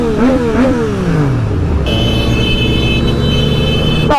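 A motorcycle engine revs at a rally for Marco Simoncelli at Misano. Loud rising and falling revs come close by, then settle into a steady high drone with other engines around.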